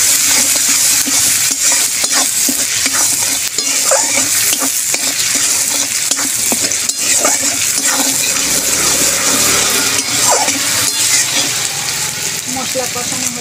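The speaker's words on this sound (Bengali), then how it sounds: "ভালো করে আমি মশলাটা কষিয়ে নেব।" A spice mixture with black cumin seeds and sugar is stir-fried in a pan for a water lily (shapla) recipe, giving a loud, continuous sizzle with steady scraping and stirring strokes throughout.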